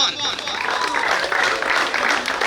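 Audience clapping at a team winning celebration, a brief burst of steady applause from a gathered crowd with voices audible beneath it.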